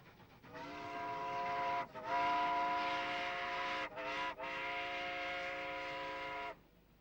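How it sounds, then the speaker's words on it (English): An Alco 2-8-0 steam locomotive on a Cuban sugar mill railway at Central Alfonso in Santa Clara province, sounding a loud, sustained chime whistle in several long blasts with short breaks, over low rumbling running noise. "This big Alco 280 handles much traffic on this system"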